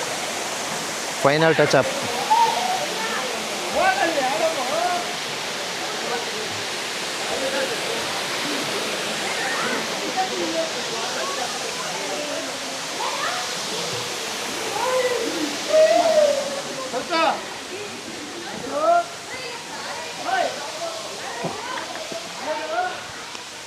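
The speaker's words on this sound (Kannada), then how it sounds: "ಎರ್ಮಾಯಿ ಜಲಪಾತ ತುಂಬ ಚೆನ್ನಾಗಿತ್ತು" Ermayi waterfall pours in a steady broadband rush that fills the whole stretch, with people talking and calling intermittently over the continuous roar.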